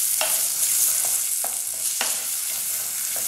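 Chopped onion sautés in a couple of spoonfuls of olive oil for a Brazilian shrimp moqueca, a steady bright sizzle with a few soft stirring scrapes, close and alone.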